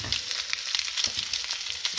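Red Hot Links sausages sizzle steadily in a frying pan, with dense crackling and popping throughout and no talk.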